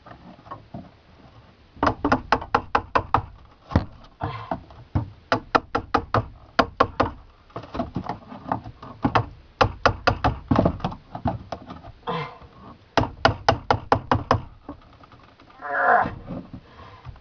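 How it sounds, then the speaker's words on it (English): Repeated hammering knocks out a particle board shelf under a sink during a bedroom clean-out, sharp blows in quick bursts of several hits separated by short pauses, close and loud, with a brief scraping shuffle near the end. "So, here I am pounding."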